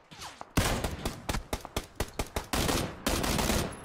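Loud bursts of automatic gunfire in an online shooter game ring out close by, with rapid rhythmic volleys and sustained sprays separated by short pauses.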